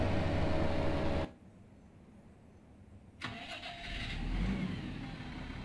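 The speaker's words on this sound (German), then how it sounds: "Motor ausschalten." Vehicle engine in Farming Simulator 17 during a mowing session: a steady engine drone cuts off abruptly as it is switched off, then after a two-second pause a fresh start bursts in and settles into a loud running hum.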